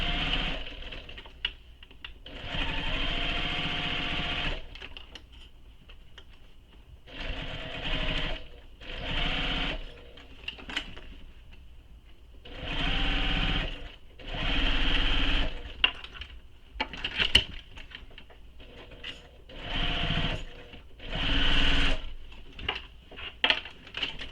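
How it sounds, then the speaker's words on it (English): A sewing machine stitches all the way around a handmade Danbury tote bag at the seam allowance, running in repeated bursts of whirring with short pauses between them, loud and close. "sew all the way around your bag using the seam allowance given in the pattern"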